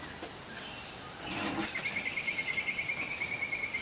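Bird song outdoors on a late afternoon, a faint, quick repeating chirp trill that starts partway through and continues steadily over soft ambient background.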